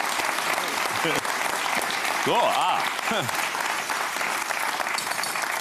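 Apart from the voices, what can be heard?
studio audience applause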